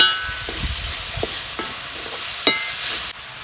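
Mutton pieces sautéing in a pan with turmeric powder, salt, mint, coriander and curry leaves for a Tamil mutton kulambu, with soft sizzling under a few light stirring scrapes and clinks, close and steady.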